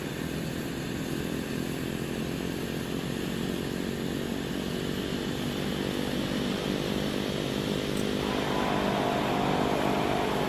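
A Cessna Caravan turboprop in a flight simulator runs its propeller in beta range with a loud, steady droning roar, rough and buzzy and unbroken throughout, with a slight change in tone late on.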